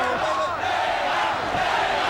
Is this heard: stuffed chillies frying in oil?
no